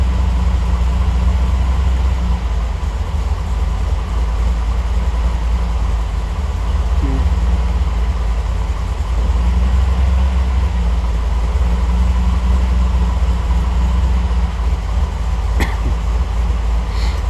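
A Triumph TR8 engine, Megasquirt tuned, idles steadily after a cold start with a continuous low, loud rumble throughout and no talking.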